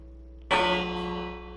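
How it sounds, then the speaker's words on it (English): A village bell in the video game Minecraft rings once, a sudden bright metallic strike with rich ringing overtones that decays slowly over about a second, heard alone without talk. "So I'm going to ring the bell"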